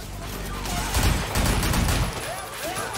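Gunfire from a pistol in the video game Sleeping Dogs, a dense burst of loud close shots and impacts clustered mid-clip over a busy game soundscape, with a voice talking over it.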